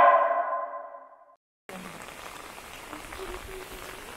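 Heavy summer downpour at a hot-spring RV park in Tohoku, Japan: steady, dense rain hiss fills the second half after a brief silence, preceded by a fading tonal sound at the start.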